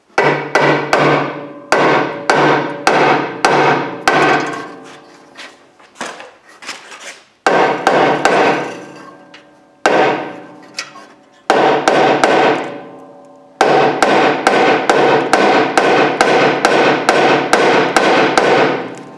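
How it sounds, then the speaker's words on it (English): A metal auto body hammer repeatedly striking a car horn, sharp ringing metallic clanks in fast bursts of rhythmic blows with short pauses between series, loud and close. "here we go again, misusing my body hammer"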